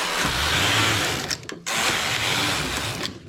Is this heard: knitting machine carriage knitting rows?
yes